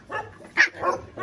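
A few sharp dog barks close by at a dog shelter in Egypt, three or four quick yaps in a short burst.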